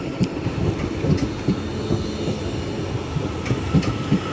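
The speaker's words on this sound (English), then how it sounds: "Now departing is 331004 with a Northern service back out to Leeds." Northern class 331 unit 331004 pulls out of Doncaster station bound for Leeds, a steady rumble of wheels and motors with rhythmic rail clicks and faint squeals, continuous and fairly close.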